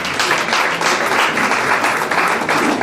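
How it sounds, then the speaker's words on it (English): Loud, dense applause from an audience at a university QHSE debate series, honoring a debate speaker; many hands clap together in an even, sustained roar with no speech over it. "please a round of applause for her"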